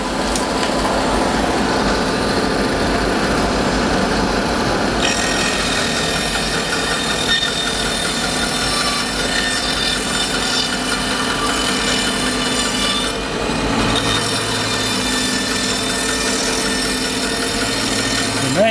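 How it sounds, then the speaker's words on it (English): Bandsaw cutting a half log of wood into bowl blanks, a steady loud whining rasp of the blade through timber running continuously, with a shift in tone partway through as the cut changes. "The main thing when you're cutting with a bandsaw, try and keep your hands behind the blade."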